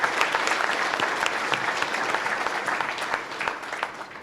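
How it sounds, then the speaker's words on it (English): An audience gives a sustained round of applause, dense steady clapping from a sizeable crowd at an event, continuing throughout. "I think that deserves a round of applause as well."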